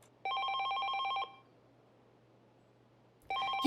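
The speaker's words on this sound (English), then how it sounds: "the ringing phone broke his train of thought" Electronic telephone ring from the video game 428 Shibuya Scramble: one steady trilling burst of about a second, then silence, then the ring starts again, clear and alone.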